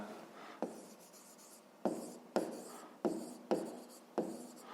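Pen or pencil writing by hand on paper during a school math exercise: quiet, close scratching strokes with several sharp taps as the tip lands, and no voices.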